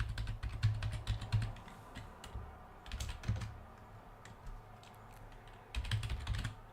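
Bursts of quick, close keystrokes on a computer keyboard as code is typed, clattering in uneven runs with short pauses between them.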